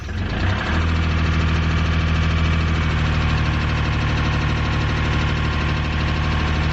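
A sailboat's engine starts with a brief rough catch, then idles steadily, loud and close, with an even mechanical drone and vibration and no talk.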